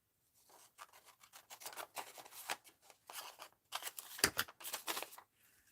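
Scissors snipping paper bingo numbers for a mixed-media art journal, a run of quick close cuts and rustles, quiet and without speech.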